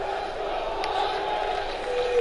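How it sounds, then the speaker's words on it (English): A virtual arena crowd in the UFC 2 video game chants and roars in a steady, distant wall of voices, rising slightly toward the end. "The crowd chanting for the knee."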